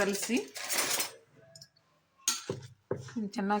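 Washed mushrooms being mixed into a pot for mushroom pulao, giving clinking utensil-on-metal scrapes and knocks in short bursts, close up, with someone speaking between them.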